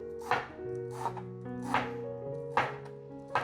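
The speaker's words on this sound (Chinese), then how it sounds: "所以把它切碎来爆香" A knife chops enoki mushrooms on a cutting board, five crisp, evenly spaced strikes under a sustained musical tone, close and clear.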